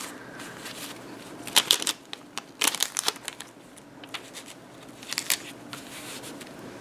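A strip of tape being pulled and torn, then pressed down onto a homemade quilt board: short crackly bursts of ripping and crinkling, close and fairly loud, separated by quiet pauses.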